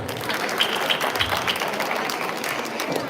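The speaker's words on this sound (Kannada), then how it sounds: "ಚಪ್ಪಾಳೆ." An audience at a Deepavali and Rajyotsava cultural program claps after a poem recital, a dense, lively burst of applause lasting the whole moment, fairly close and loud.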